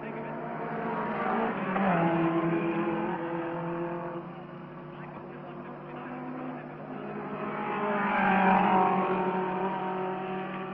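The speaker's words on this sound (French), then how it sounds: "menacer le numéro 4, Levis Evans, que nous voyons passer, que nous voyons tourner très régulièrement" Racing cars lap a circuit during the Glover Trophy race, their engines droning steadily with a swelling pass at the start and another louder approach near the end, all under a continuous mid-distance roar.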